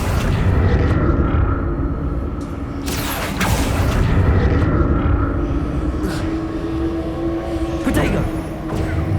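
Confringo fire spell blasts in Hogwarts Legacy, booming over a constant rumbling game soundscape, with sharper bursts at about three and eight and a half seconds while a voice talks throughout.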